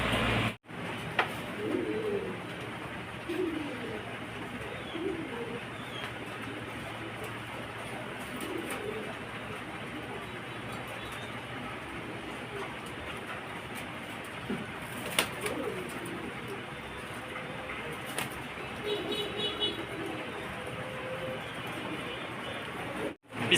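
A breeding pair of rams pigeons coos in a loft, with soft, repeated low throaty coos at intervals over a quiet background, close by, with occasional faint noise.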